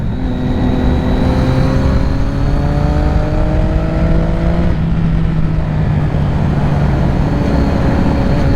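A sport motorcycle, either a 2006 Triumph Daytona 675 or a 2007 Yamaha YZF R6, holds a loud steady high-revving engine drone under constant wind noise. The pitch climbs, dips briefly at a gear change, then carries on rising.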